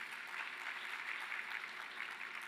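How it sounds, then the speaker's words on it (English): An audience at an education sector conference session gives a presenter another round of applause, an even, moderately loud patter of clapping with no pauses. "can we give him another round of applause"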